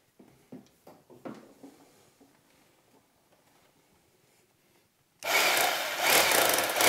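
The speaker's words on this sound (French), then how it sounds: "une fois que vous avez percé le plâtre, vous passez en forme marteau." A few scattered knocks and handling taps come first, then a hammer drill in hammer mode starts abruptly, boring into a brick wall with a loud, continuous grinding rattle to the end.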